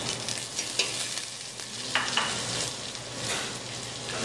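Onion sizzling and frying with beans in a pan, a steady close crackle with occasional stirring scrapes and clinks throughout, no talking.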